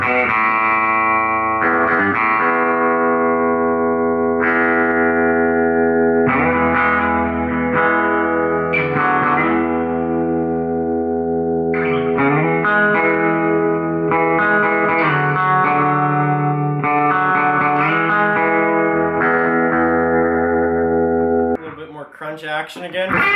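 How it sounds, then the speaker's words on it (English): A Gretsch Brian Setzer Hot Rod electric guitar plays sustained chords with a pulsing tremolo and a splashy spring reverb tail, loud and close, ending in a brief clatter. "Tremolo with some more spring reverb."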